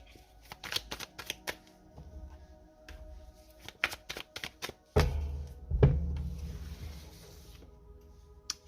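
Oracle cards are shuffled by hand in quick, irregular bursts of soft riffling and tapping, close up and quiet, followed by heavier handling thumps toward the end, with no voices.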